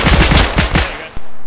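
An M4 rifle in a military video game empties a full magazine in a rapid, loud burst of automatic fire lasting about a second, ending in one final sharp shot.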